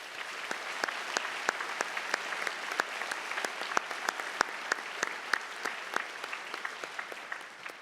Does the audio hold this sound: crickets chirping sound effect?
no